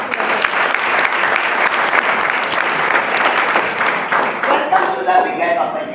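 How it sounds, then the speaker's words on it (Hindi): Loud, sustained applause from a seated audience at a live talk or seminar, dense clapping filling the hall steadily for the whole stretch before fading slightly at the end. "आपकी जोरदार ताली के साथ प्लान की शुरुआत।"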